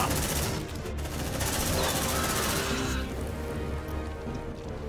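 Marines lay down sustained automatic gunfire in Aliens: Dark Descent, a dense, loud barrage that hisses almost like heavy rain and continues without pause for several seconds.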